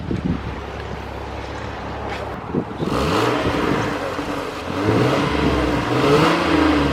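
A 2JZ-engined Lexus IS300 idles, then revs up in several rising bursts with its Varex exhaust valve fully closed, a deep rumbling exhaust tone swelling and falling back, heard nearby outdoors.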